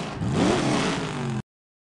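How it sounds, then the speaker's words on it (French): A video game racing car engine revs up in one short, rising roar, then holds briefly before cutting off abruptly. "Écoutez le grondissement des moteurs."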